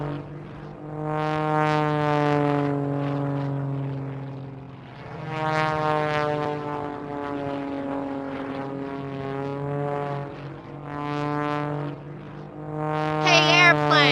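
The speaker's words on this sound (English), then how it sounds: "Look, there is an airplane." A cartoon airplane from a children's alphabet learning show flies past with a droning, tonal propeller engine hum that swells and fades in several long waves and stays prominent and close.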